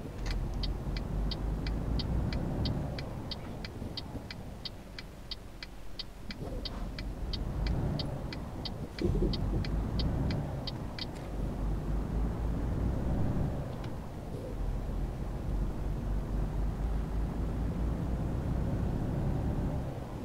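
A Mercedes-Benz Actros truck in Euro Truck Simulator 2 driving with a steady low engine drone and road rumble, while a regular ticking pulses for several seconds, likely an indicator, under faint background.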